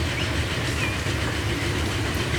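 A train in the railway simulation game Transport Fever 2 rushes past close by, a loud continuous rumble and rattle of wheels on track with no talking over it.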